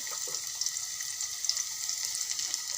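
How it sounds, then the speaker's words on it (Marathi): Onion frying in a pan for tomato chutney, just beginning to cook: a steady, fairly quiet crackling sizzle with small pops, continuous and close, with no stirring strokes or voices. "आपला कांदा छान असा मस्त आता शिजण्यासाठी सुरुवात झालेली आहे"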